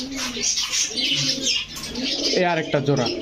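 Pakistani Babra pigeons coo close by, with soft burbling calls and chirps amid cage rustling and a constant background of other birds.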